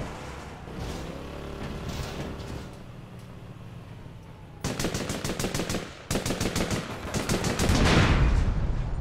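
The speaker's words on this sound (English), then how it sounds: "I was shooting him in the face." Rapid automatic gunfire in the online shooter APB Reloaded, a steady background of game noise giving way to loud, dense bursts of machine-gun fire that grow heavier toward the end, with no talking.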